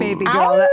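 A voice imitates an animal howl, a short rising-then-falling wail that blends a cat's meow with a dog's howl, loud and close, in a casual conversation.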